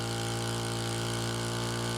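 Two-stroke or four-stroke Sharp Garuda power sprayer engine idling steadily during a fuel consumption test, a loud continuous buzzing drone with a constant pitch and no pauses.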